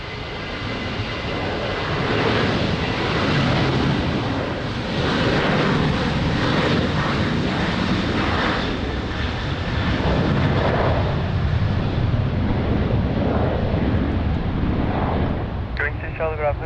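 Jet engines of airliners at Lisbon Airport, including a departing Boeing 777, make a loud, sustained broadband roar that swells and eases. Radio chatter from air traffic control can be heard faintly beneath it.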